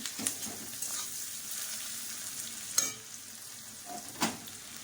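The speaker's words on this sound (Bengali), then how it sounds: "শুকনো লঙ্কা, জিরা দিয়ে ভালো করে লাল লাল করে ভেজে নিতে হবে" Dry red chillies and cumin seeds crackle and sizzle softly in a pan, under a low frying hiss with a few sharp stirring clicks and scrapes.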